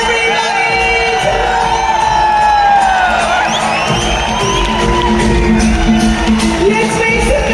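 A crowd at a business event cheers, whoops and shouts steadily in a loud, continuous roar, with voices calling out over it.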